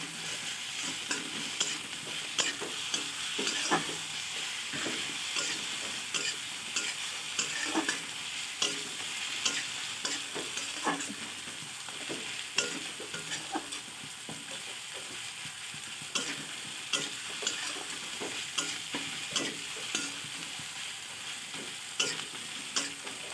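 Garlic paste sizzles steadily in a hot pan for chicken curry, with repeated scraping stirs running throughout the whole stretch and no one speaking.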